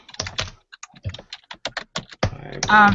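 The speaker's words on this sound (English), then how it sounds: "I keep typing on my other keyboard." Typing on a computer keyboard: irregular bursts of crisp, close key clicks and taps, ending in a louder clatter, with no voices.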